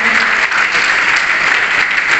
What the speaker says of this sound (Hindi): भाई के लिए जितना आपके जोश है उतनी जोर से तालियां बजाई